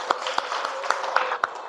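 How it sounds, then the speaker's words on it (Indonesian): Scattered hand claps from a small classroom group, about six sharp claps spaced unevenly over a brief moment against a low background murmur. "Tepuk tangan untuk Raffi."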